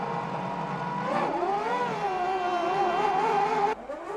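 A 1998 Formula 1 car, Mika Häkkinen's, accelerating out of the pit lane with Michael Schumacher's Ferrari close behind, a high whining engine note climbing and holding steady before cutting off abruptly near the end.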